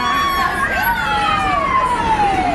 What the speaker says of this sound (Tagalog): Ayan na. Ambulansya.